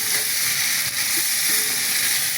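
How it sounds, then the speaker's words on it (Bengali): Potatoes and crabs fry with ground spices, salt and turmeric in a wok, giving a dense, steady close sizzle with light stirring scrapes and no voices. "তার মধ্যে আমি আলু আর কাঁকড়াগুলো দিয়ে একটু ভেজে নিলাম"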